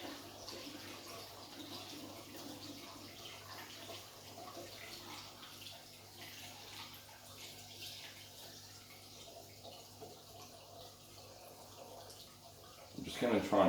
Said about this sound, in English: I'm just going to try and pour slowly so I don't lose the stir bar on the in the flask